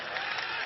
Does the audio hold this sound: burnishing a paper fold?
no